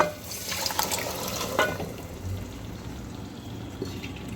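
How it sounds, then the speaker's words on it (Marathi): Cooked chickpeas tipped with their cooking water into a masala gravy pan for a dhaba-style kabuli chana curry, a close wet pouring and splashing that runs steadily for a few seconds. "याच्यामध्ये आता आपण चणे टाकून द्यायचे आहे पाण्यासहित"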